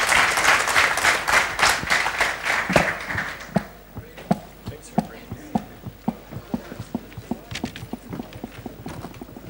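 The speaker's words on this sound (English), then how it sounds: "A round of applause for the audience and for our wonderful panel." An audience at a panel discussion event applauds, with dense clapping at first that thins into scattered, rhythmic individual claps as it dies down.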